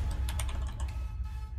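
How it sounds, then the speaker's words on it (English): Rapid keystrokes on a slightly faulty computer keyboard, a close, steady patter of clicks with no talk over it. "I'll have to do some typing"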